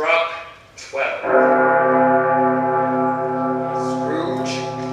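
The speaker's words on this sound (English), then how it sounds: "The bell struck 12." A clock bell tolling at midnight, a deep sustained ringing tone that swells after a brief spoken voice and hangs on, slowly fading.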